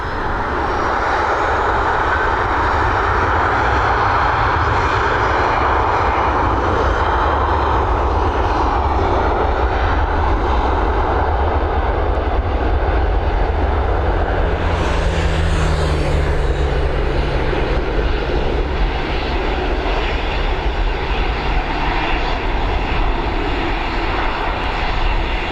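Emirates jet departing Dublin Airport and rotating on takeoff, a loud sustained engine roar with a brief high whine partway through, heard from a distance and steady across the whole span.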